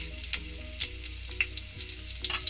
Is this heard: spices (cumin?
yes